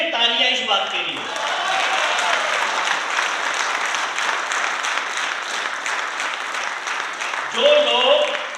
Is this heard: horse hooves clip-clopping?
no